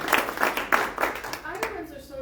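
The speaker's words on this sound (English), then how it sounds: "They clap before the speaker even says anything." Audience clapping in a few distinct, fairly sparse claps that thin out, indoors at a talk, with faint voices underneath.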